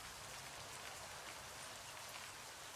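Steady, dense rain patters evenly across surfaces in the horror interactive novel Livber: Smoke and Mirrors, a continuous soft hiss with no voices and no breaks.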